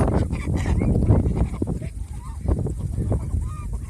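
Ducks honk and quack in a dense, restless chorus at a duck farm, with many close overlapping calls running throughout.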